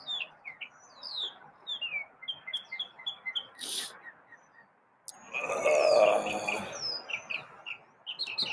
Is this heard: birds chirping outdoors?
yes